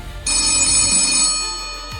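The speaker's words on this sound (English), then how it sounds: "my microphone picked up a faint ringing. The same sound I'd heard the night before. A phone." A loud electronic telephone ring sounding once, bright and steady, then fading away with a brief low thump at the end.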